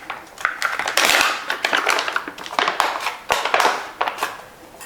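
Spoonfuls of calcium carbonate powder are scooped and measured, giving a run of close, crisp scraping and tapping clicks as a spoon works the powder and knocks against its container.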